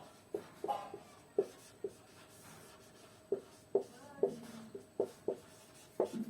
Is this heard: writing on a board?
yes